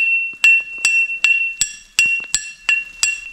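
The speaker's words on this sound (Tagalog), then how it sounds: "Ring the bell." A bell rung by hand in a forest in Japan, about eight bright metallic strikes spaced roughly every half second, each with a sustained ringing tone, loud and near with no talking.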